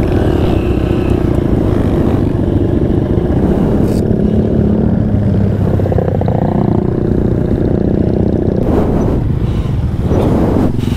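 A stalling motorcycle engine at Mount Bromo sputters and revs in a loud, continuous rough drone close by, with clattering and a roar of surrounding traffic through the whole stretch.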